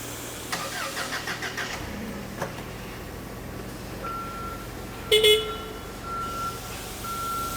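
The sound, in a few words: Toyota forklift starting and pulling out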